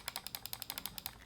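Stiff button clicks from an Armaggedon Raven 3 gaming mouse, about a dozen crisp, closely spaced ticks in an even rapid rhythm, close and fairly quiet, with no voice.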